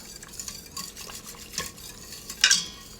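Guar gum being stirred into pot roast liquid in an Instant Pot, soft sloshing and scraping with a sharper clink of the spoon near the end, close, no talking.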